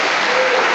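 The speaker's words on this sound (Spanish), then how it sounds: "usted merece un aplauso" Church congregation applauding in a steady, dense wash of clapping that fills the whole short moment without pause.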